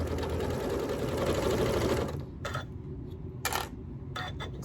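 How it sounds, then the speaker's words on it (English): A sewing machine with a walking foot runs steadily while stitching quilt blocks with sashing, a fast even whir for about two seconds that then stops, leaving a few short bursts and clicks. "now we're just gonna sew 1/4 inch all the way down"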